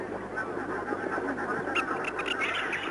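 A flock of pink-eared ducks calls in the open, their soft quacking and honking notes rising over a steady background rumble, with scattered calls sounding at moderate distance and growing busier toward the end.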